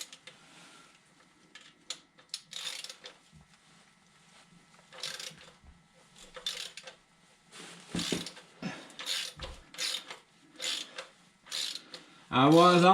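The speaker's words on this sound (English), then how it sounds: "Getting ready for the old plug. 14mm wrench." A 14mm wrench works the oil drain plug under a 2013 Toyota Corolla, giving sparse metallic clicks and ratcheting ticks scattered among quiet moments, with a louder clatter at the end and a voice talking at times.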